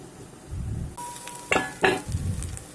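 Cut potato pieces dropped into a hot pan for a curry, starting with a low hiss that jumps to a louder sizzle, with two sharp clinks of a utensil against the pan and continued frying afterward.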